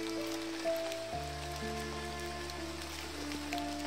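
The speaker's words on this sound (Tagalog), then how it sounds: "Kaso lumakas yung ulan." Heavy rain pours down in a steady, dense hiss at night, with a low tonal drone and faint hum running beneath it throughout. No one speaks.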